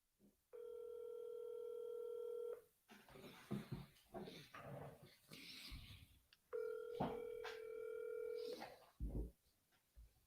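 Outbound telephone ringback tones sound twice in long steady bursts during a real-estate cold call, separated by stretches of speech and a dog's whimpers in the background.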